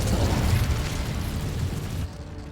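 A burst of fiery spell-casting in a Harry Potter wizard video game, a loud roaring whoosh with booming low rumble that holds steady for about two seconds, then drops off sharply into a quieter tail.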